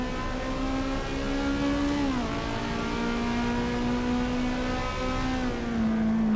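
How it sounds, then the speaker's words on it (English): Race car engine at Bathurst in the Assetto Corsa EVO racing game, droning steadily up the start-finish straight between buildings, with a strong sustained note that dips briefly as the car shifts gear, loud and close with no talk. "going up the start-finish straight here, where there's sound bouncing off the sides of the buildings, it changes the note of the car."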